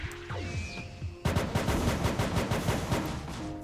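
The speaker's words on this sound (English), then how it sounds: "Fire Gun is you shoot like multiple pistols out your fingertips" Rapid bursts of pistol gunfire from the Fire Gun move in the Roblox game Fruit Battlegrounds, a quick volley of shots in steady rhythm after a short lead-in, loud and close with no talking.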